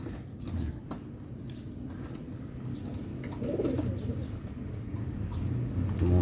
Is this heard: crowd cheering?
no